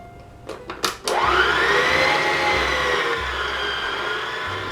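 An electric stand mixer runs steadily as it kneads Nutella bread dough, a loud continuous motor whir with a cyclic churning rhythm that starts after a few short bumps and carries on alone.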